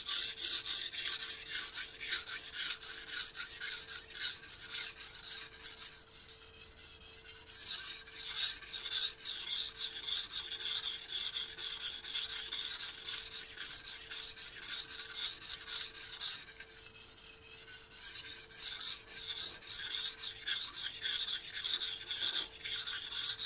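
Knife blade rubbed back and forth across a wet Shan Zu 8000-grit whetstone, a fine rhythmic rasping stroke after stroke, faint and steady with brief pauses, no voices.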